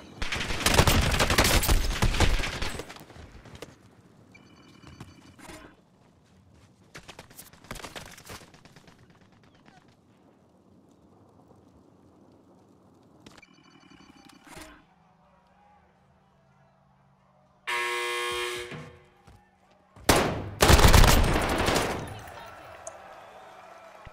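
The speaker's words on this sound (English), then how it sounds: "I'm literally being shot from three angles here." Gunfire in Call of Duty: Modern Warfare comes from multiple directions: loud, dense fusillade bursts open the match, sharper volleys return midway, and a heavy close barrage closes it, with quieter stretches and faint voices between.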